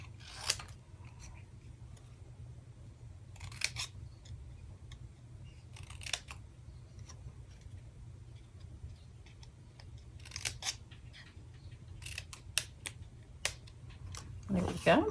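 Hand scissors cut scrap cardstock paper for a Christmas card: a few quiet, short snipping bursts spaced irregularly over a soft background hum.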